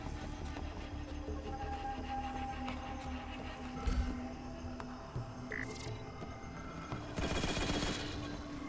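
Promethean energy weapon firing in Halo Spartan Strike: a rapid, steady mechanical stream of shots over a low electronic hum, moderately quiet, with a few louder bursts and effects toward the end and no talk.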